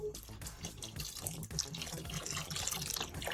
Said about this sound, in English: We gotta shake it up, shake the dye up.